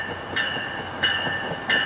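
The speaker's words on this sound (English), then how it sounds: "Here's cab car V727 leading the train." VRE commuter train led by cab car V727 passing close by, a steady rumble with bright squealing tones swelling three times as cars go past.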